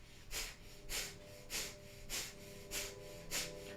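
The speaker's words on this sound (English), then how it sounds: "we'll begin 1 minute of Breath of Fire here, panting like a dog through the nose, powerfully moving the navel" Rapid Breath of Fire yoga breathing, forceful panting through the nose, with six sharp, evenly spaced exhalations that sound close and loud over a quiet room.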